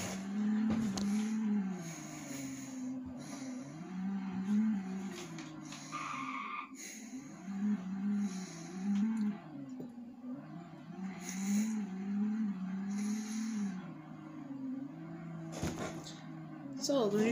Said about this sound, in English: We're going to be driving the Ford GT while we're doing this